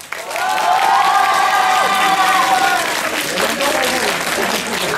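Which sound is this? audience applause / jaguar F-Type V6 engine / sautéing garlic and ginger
audience applause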